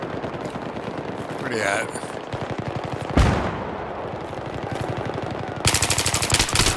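Battlefield 3 gunfire, played on the Venice Unleashed mod during a counterattack: rapid automatic bursts and single shots, some close and loud, others more distant. A sharp blast lands midway, then a dense burst of fire near the end, with a voice talking over it.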